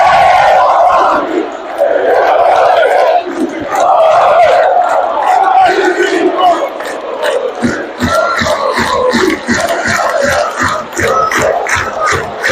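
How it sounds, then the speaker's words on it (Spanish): Stadium crowd at a football ground's farewell match, a loud, dense roar of cheering and voices that turns into rhythmic clapping in the second half. "Toda la gente aplaudiendo."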